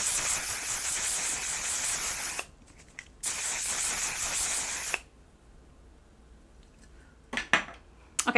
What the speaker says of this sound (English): I'm gonna set my face with the On Till Dawn mattifying setting spray